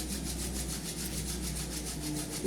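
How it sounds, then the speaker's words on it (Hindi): Palms rub briskly together in a quick, steady back-and-forth rhythm, producing a soft, close, repeating swish with no voices. "हथेलियों को आपस में रगड़ें।"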